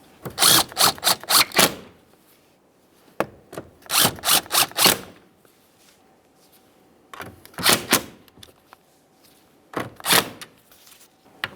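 A power driver runs bolts into a 2015-2020 Ford F-150 side mirror in four short bursts of rapid, rattling impacts, separated by quiet pauses, close up with no talking.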